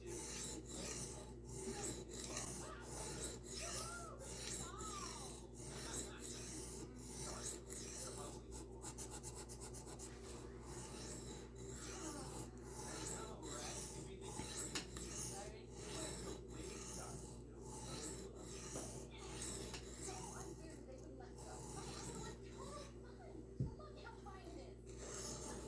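A knife being sharpened on a 600 grit diamond plate, a long run of rhythmic, close, raspy scraping strokes that repeat steadily, faint overall and without talk.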